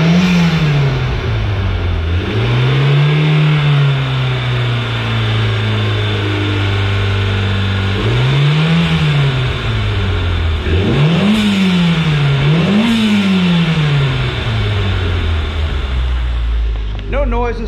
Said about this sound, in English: Let's give that motor a couple of revs so you guys can hear it.